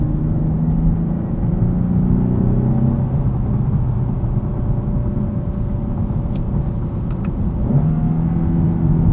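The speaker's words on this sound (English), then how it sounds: "There's that rev match." Lexus IS 350 F Sport Design AWD engine from inside the cabin, a steady low droning hum with brief pitch swings as revs blip and settle on a downshift, close and loud, no talk.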